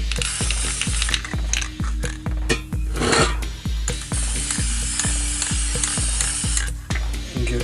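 A spray paint can hisses in bursts along the side of a straight edge, laid over a steady, rhythmic mechanical clicking and rattling.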